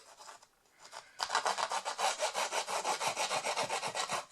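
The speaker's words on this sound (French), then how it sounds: "on va distresser les bords là" Edges of a paper card are distressed with quick, repeated rasping strokes in a steady rhythm, close and fairly loud after a brief soft scrape, with no talking.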